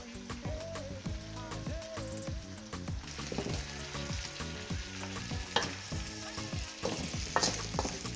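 Garlic and ginger mixture hitting a pan of softened onions for a Réunion chicken and chayote curry, sizzling and frying steadily while being stirred, with a spoon scraping and clinking rhythmically close by.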